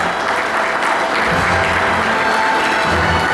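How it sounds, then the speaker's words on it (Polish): A gala audience at a furniture industry awards event breaks into loud, dense applause, a continuous roar of many clapping hands filling the hall without a break. "Gorące brawa."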